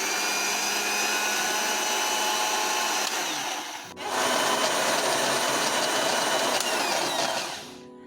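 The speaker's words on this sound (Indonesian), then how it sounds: "Memblender kelapa gonseng." An electric blender grinds roasted coconut for rendang in a continuous loud whir, pausing briefly midway before resuming and then winding down at the end.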